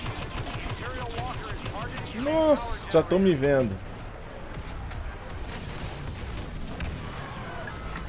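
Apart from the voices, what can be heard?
gunfire in the video game Star Wars Battlefront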